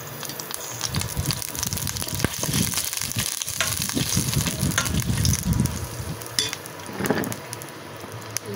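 Garlic frying in hot oil, a steady loud sizzle with crackling spatters throughout, close up, with occasional stirring scrapes.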